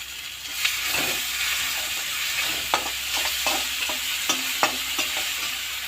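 Browned onions with salt and spices frying in oil for an egg and potato curry, a steady close sizzle broken by repeated spatula scrapes and knocks against the pan.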